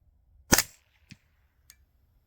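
A single sharp report from a suppressed AR rifle with a 16-inch barrel firing subsonic 9mm through an R9 silencer, close and alone, followed by two faint metallic clicks of the action.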